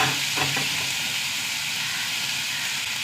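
Finely chopped onion and garlic frying in a pan with curry leaves: a loud, steady, close sizzle and hiss that fills the whole stretch, with a brief stir or voice-like murmur near the start.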